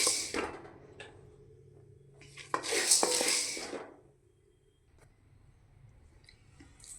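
Roasted gram (pottukadalai) being dry-roasted and stirred in a pan: dry rattling and scraping against the metal, soft at first, then swelling into a louder clattering burst midway before settling quiet. No one speaks.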